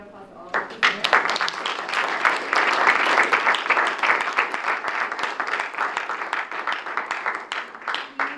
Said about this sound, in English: let's give a round of applause to all of you here